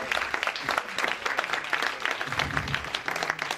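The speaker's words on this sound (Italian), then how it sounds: "Ma veramente Valeria Solarino, migliore attrice, merita un applauso davvero." An audience at a short film festival awards night applauds the best actress, with dense, steady clapping that holds throughout at a close, full level.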